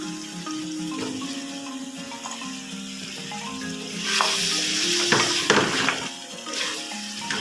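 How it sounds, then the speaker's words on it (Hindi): Cut potatoes frying in a pan for a Punjabi wadiyan curry, a steady close sizzle with occasional louder bursts of crackle and stirring scrapes toward the end. "तो इसको अच्छी तरीके से हमें भूनना है।"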